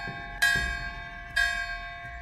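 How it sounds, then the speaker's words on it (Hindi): Village temple bells ring at night, two clear, resonant strikes about a second apart, each leaving a long sustained metallic hum that lingers between hits. "रात को गांव के मंदिर में घंटियां बजने लगी।"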